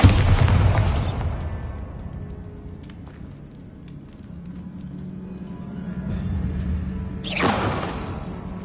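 In a Harry Potter video game, a Bombarda spell sets off a loud rumbling blast that opens the scene, then fades to a low hum before a second sharp burst near the end.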